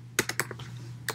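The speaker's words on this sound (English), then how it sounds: "So now we press command and the spacebar at the same time." A Mac keyboard gets a few quiet key presses, a quick cluster of clicks and one more tap shortly after, as command and spacebar are pressed together.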